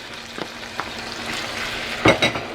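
Chicken jalfrezi frying in a pan with tomato paste being added and stirred in, a low steady sizzle broken by a few soft scrapes and a louder stirring clatter near the end.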